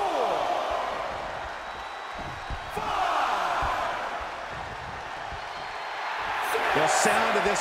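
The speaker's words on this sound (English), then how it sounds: "This crowd is deafening," A wrestling arena crowd at a last man standing match roars continuously, swelling into louder waves of cheering with scattered whoops, while a commentator talks over the noise.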